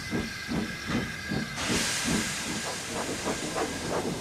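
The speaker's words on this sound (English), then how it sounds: "And Edward puffed to the harbor." A steam locomotive chuffing in a regular rhythm with a continuous hiss of steam that grows louder partway through, steady and moderately close.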